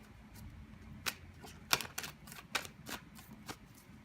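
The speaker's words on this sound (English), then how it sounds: "let's finish shuffling" Tarot cards being shuffled by hand: a run of crisp riffling snaps and soft shuffles in irregular bursts over a low background hum, close and moderately quiet, with no talking.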